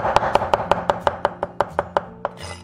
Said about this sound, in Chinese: 大蒜先拍碎，然后切成蒜末，1小块生姜切末